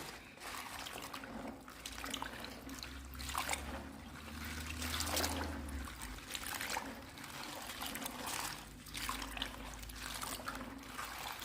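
Clean water runs steadily into a basin for rinsing fresh garden spinach leaves, a continuous close trickle and splash with no speech.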